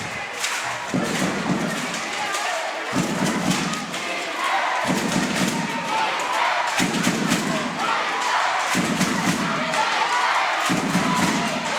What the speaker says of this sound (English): Now we got the beat of the drum.